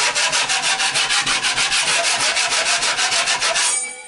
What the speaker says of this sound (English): Use your compound knife to smooth the surface.